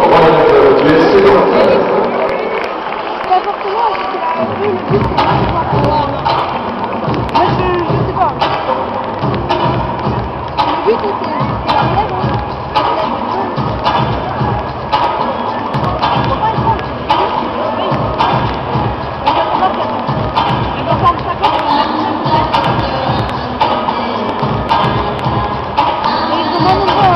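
Stadium crowd at an SCO football match cheering and applauding as fifty young academy players are presented, a loud, continuous wash of noise punctuated by heavy thumps throughout.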